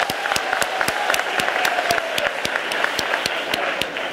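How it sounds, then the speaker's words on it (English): An audience at a school launch event for the Gauteng Department of Education applauds with steady, dense clapping that holds at an even level throughout, with no talking over it. "Can we give them a round of applause?"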